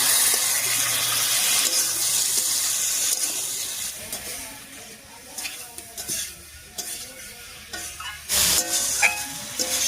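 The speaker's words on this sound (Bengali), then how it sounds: "একই সঙ্গে দিয়ে দিচ্ছি একটুখানি মশলা বাটা জল। এবারে কষিয়ে নেব।" Spice paste and spice-paste water sautéing in a pan for a Bengali tilapia and ash gourd curry, a loud continuous sizzle and hiss with repeated scraping stirs, close and without talk.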